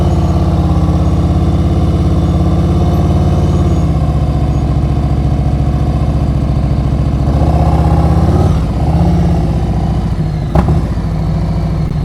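Motorcycle engine running steadily through slow-speed riding practice in Florida, a loud close drone with small rises and dips as throttle changes, plus a brief clunk near the end; no talking.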